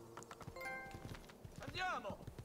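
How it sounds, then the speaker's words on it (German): Horse hooves clip-clop in steady rhythm within the video game Assassin's Creed 2 as a white horse is ridden, close and fairly clear, mixed with game music and a brief whinny-like sweep. "So, ich nehme ein weißes Pferd."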